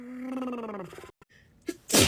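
One person with allergies sneezes, a drawn-out rising inhale followed by a sharp, loud explosive burst at the end, close and alone.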